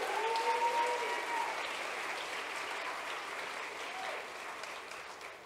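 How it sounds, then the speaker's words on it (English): A pageant audience applauds the contestants at the close of a talent competition, steady dense clapping filling the hall throughout, with a brief sung or whistled tone near the start. "Let's have a nice round of applause for all the contestants."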